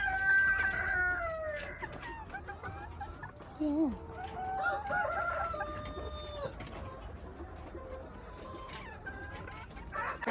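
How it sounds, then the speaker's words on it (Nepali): A three-to-four-year-old rooster crows on a chicken farm in Godavari, its drawn-out calls mixing with other fowl clucking nearby, and a voice briefly speaks. "यो चाहिँ 3-4 वर्ष भइसकेको है भाले"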